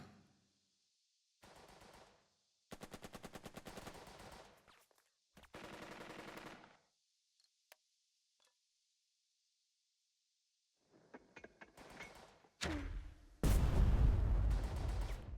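Gunfire and mortar fire in the Burden of Command war game, with several bursts of rapid machine-gun rattle separated by silence, then loud heavy blasts near the end.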